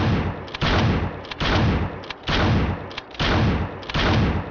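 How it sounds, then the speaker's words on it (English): Loud bursts of automatic gunfire in Hotline Miami 2, four long rattling volleys separated by brief pauses, harsh and close with no voices. "That gun is so loud."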